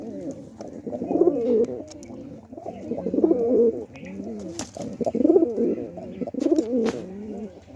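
A newly paired couple of pigeons coo inside a cage, their soft, throaty rolling calls coming in repeated bursts roughly every two seconds, close and steady, with a few faint clicks and rustles between phrases and no talk.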